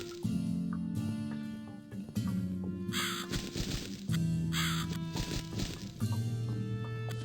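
A crow caws repeatedly in The Cat Lady video game, several harsh, close calls in separate bursts over a low, droning background.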